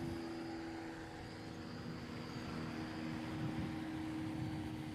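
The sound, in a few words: STOL airplane flying around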